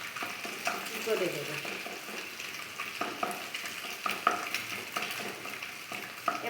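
An egg scrambled and broken up with a spatula in a frying pan while making a breakfast from leftover rice; a soft continuous sizzle with frequent light scraping taps, and a brief quiet voice.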